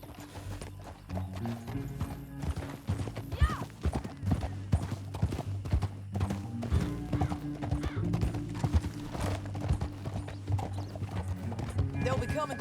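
Rapid clip-clop of horse hooves at a steady gallop in the video game Red Dead Redemption 2, continuous and fairly close, with a rumble of movement and background music.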